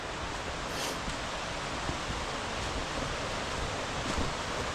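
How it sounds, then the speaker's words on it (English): Water from the lower falls on a mountain trail rushes in a steady, broad, hiss-like roar that stays constant, with no voices, probably swollen by recent rain. "That's the lower falls."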